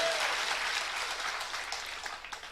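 Audience clapping steadily through a sermon by Acharya Vidyasagar Maharaj in Indore, a dense, even wash of many hands at moderate volume with no talk.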